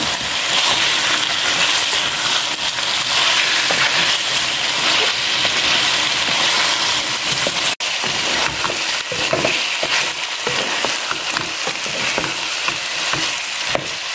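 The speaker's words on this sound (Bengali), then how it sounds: "ডিম আলুটা আমি 4-5 মিনিটের মতো কষিয়ে নেব" Egg and potato curry sautéing in a pan, with steady sizzling and frying noise throughout and repeated scraping stirs of a spatula growing more distinct toward the end.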